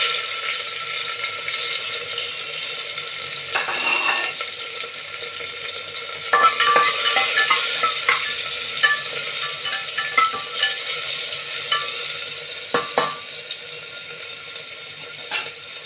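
Chopped tomatoes frying in a pan while being stirred, a quiet hiss broken by scraping stirs that become busier and more frequent in the second half, close and alone without speech.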